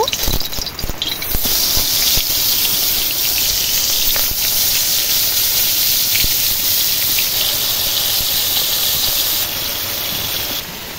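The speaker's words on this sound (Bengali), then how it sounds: "এদিকে মাছ ভাজা হচ্ছে" Salted, turmeric-coated tangra fish fry in hot oil in a wok with a loud, continuous sizzling hiss and crackle that holds steady throughout.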